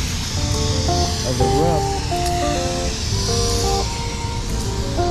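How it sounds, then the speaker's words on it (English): A spray rig applies polyurethane foam to penetrations and AC curbs on a built-up roof during restoration, giving a steady, continuous hiss beneath a voice. "we're spraying polyurethane foam on the penetration and on these AC curbs"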